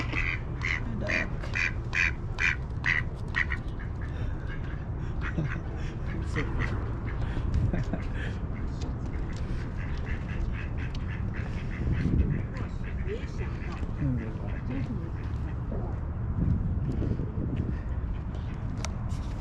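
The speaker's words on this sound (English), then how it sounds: "Oh, look at this duck here." A duck at a lakeside park quacks in short repeated bursts, clearest near the start, over a constant outdoor background of wind and distant noise.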